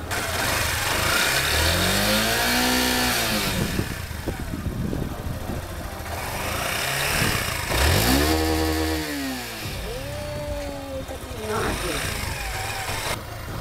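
A Yamaha Factor 150 motorcycle engine revs up and falls back in two rising, swooping surges over a steady running idle, close to the bike.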